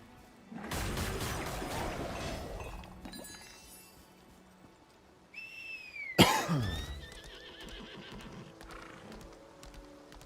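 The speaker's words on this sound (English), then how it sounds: "Yeah, a horse. A horse" A horse in the video game Lost Ark whinnies loudly in the middle, preceded by clopping hooves and snorting, with scattered clinks and a faint background hum.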